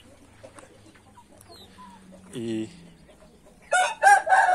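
A white rooster crows once in a short, strained call, then clucks and squawks loudly a moment later, outdoors at dusk among farm birds, with faint background noise and a brief voice.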